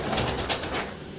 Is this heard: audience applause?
no